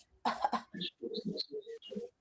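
Several short, sharp coughs in quick succession, close and fairly loud, followed by brief throaty bursts with a few higher chirpy tones.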